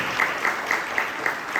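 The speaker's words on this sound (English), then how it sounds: "Can you please come on the stage with me? With applause." Steady audience applause welcoming a speaker to the stage at a tech meetup, a continuous even patter of many hands at moderate level, heard on its own.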